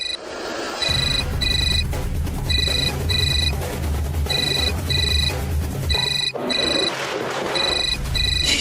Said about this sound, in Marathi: अर्पिता, मी त्या मेनकाच्या बाईला कॉल करतो आणि तिचा नंबर ट्रेस करूया.